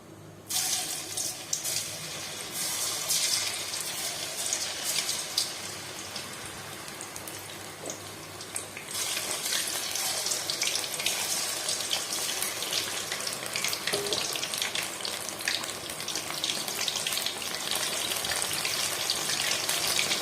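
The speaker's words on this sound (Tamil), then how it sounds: "இப்போ வாங்க சில்லி எடுத்து பொரிச்சுக்கலாம்." Mushroom chilli pieces frying in hot oil, a steady dense crackling sizzle that runs throughout, growing slightly louder and busier partway through, with no talking.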